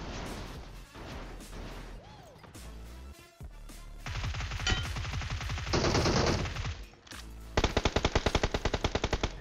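Rapid automatic gunfire from a mobile shooter game rattles in long loud bursts, with single shots and crashes between them and a final burst of evenly spaced shots.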